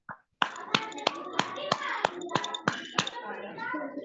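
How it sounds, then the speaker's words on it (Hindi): Participants at a meeting clap their hands in a brisk, evenly spaced rhythm, about ten sharp, close claps in a row, with voices talking alongside. "तालियां आप लोग सभी लोग बजाएं।"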